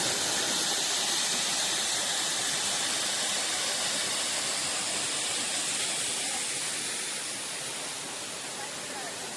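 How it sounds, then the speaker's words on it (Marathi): Constant broadband roar of rushing water, like a waterfall, fairly steady and slowly easing slightly toward the end. "इकडे आपला धबधबा आहे"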